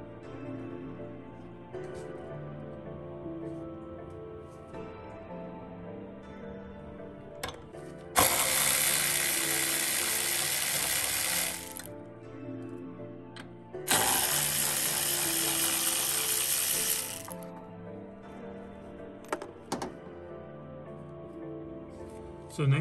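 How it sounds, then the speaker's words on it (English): A hand ratchet works a 10 millimeter bolt loose on a 2002 Mitsubishi Lancer during intake manifold removal, giving two long bursts of rapid, close clicking separated by a pause, with quieter handling noises around them. "Remove this 10 millimeter bolt."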